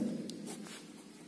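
Chalk or marker scratches across a board in a short burst of strokes during a Class 12 three-dimensional geometry lesson, close and fairly clear with no talk over it.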